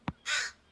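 A crow caws in the survival video game The Forest, two short harsh calls spaced apart with a brighter, drawn-out rasping cry between them, fairly close and alone with no talk over it.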